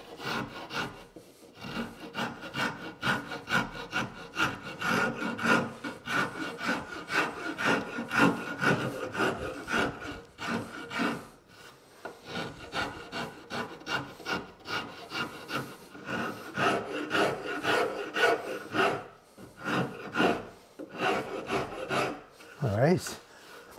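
A finer wood rasp working a sculptural wood joint, scraping in steady rhythmic back-and-forth strokes close up and fairly loud, with short pauses between passes and no talk.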